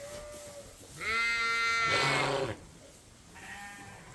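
Sheep bleat inside a barn on a sheep farm during morning chores, with several loud, drawn-out harmonic calls close by, one overlapping another, then a softer bleat a moment later.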